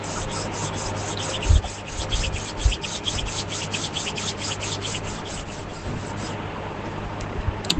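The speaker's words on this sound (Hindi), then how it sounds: "Take a deep breath and rub your palms." Palms rubbed steadily together during a guided meditation, a continuous soft hiss of skin friction lasting several seconds, close and even, with no talking.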